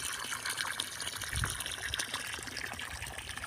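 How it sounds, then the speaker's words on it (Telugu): Water gushes steadily out of a borewell in Nalgonda district, a continuous broadband rush that stays close and even throughout with no talk over it. "ఆ కింద బోరు మాత్రం ఈ విధంగా పోస్తుంది"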